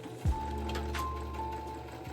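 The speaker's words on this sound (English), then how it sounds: "lift your presser foot and pivot your work, then continue sewing." Sewing machine stitching the neckline of a dress, a steady close mechanical hum with a faint thump at the start, running on without talk.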